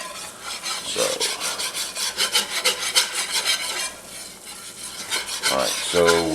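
A roux of oil and flour, mixed at roughly one part oil to one and a half parts flour for a Cajun chicken and sausage gumbo, stirred in a pot: close, continuous rhythmic scraping and rasping strokes with no voices.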